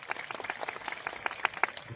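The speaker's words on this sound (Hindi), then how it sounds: "उन सबको एक बार तालियों से अभिनंदन करिए" Audience applause honouring tribal activists at a gathering, a moderate patter of individual claps close by and fairly sparse, with a faint voice underneath.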